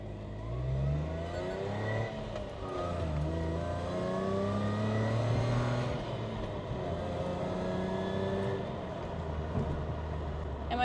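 Car with a manual gearbox swap accelerating on the road, engine note climbing through rising and falling pitches across gear changes, heard from inside under scattered chatter and ambient cabin noise.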